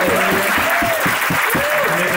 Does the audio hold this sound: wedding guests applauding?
yes